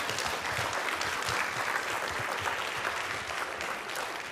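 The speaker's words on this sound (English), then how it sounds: "maybe we should applaud the caregivers that came with us" Audience at a meeting applauding the caregivers, steady full clapping from a sizable crowd that continues evenly from start to finish.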